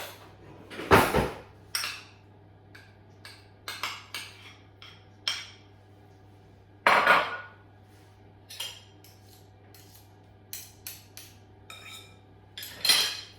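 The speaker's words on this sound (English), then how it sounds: "the Lurpak spreadable butter that I mentioned before, I'm just going to pop that in there" Lurpak spreadable butter scooped into a mixing bowl for a gluten-free chocolate cake, heard as sharp spoon-on-bowl clinks and scrapes in irregular bursts, close and fairly loud, with quieter taps between them and no talk.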